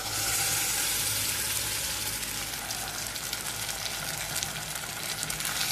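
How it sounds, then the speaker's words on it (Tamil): Onions sauté in a pan for a tomato-free side dish, giving a loud, continuous hiss and crackle of frying with occasional stirring scrapes and no voices. "வெங்காயம் வந்து இந்த மாதிரி நல்லா வதங்கிடணும்"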